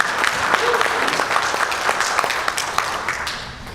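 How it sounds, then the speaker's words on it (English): Steady applause from a small group, a few seconds of continuous clapping with some talk faintly underneath. "Applaud."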